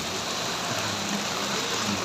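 Heavy rain pours down in Dubai as a dense, steady hiss, constant and fairly close, with no breaks and no speech.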